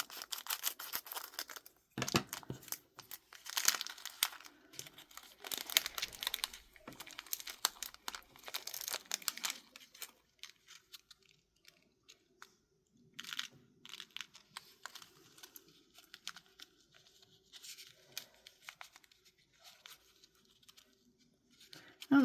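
Scissors cut open a plastic sprinkles packet at a crafting table, producing close, faint crinkling and rustling of thin plastic with occasional snips and crunches, busiest early and sparser later.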